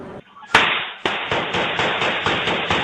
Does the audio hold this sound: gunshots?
yes